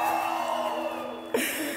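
A live audience at a spoken talk shouts and cheers in a loud, sustained roar of mixed voices that surges briefly near the end.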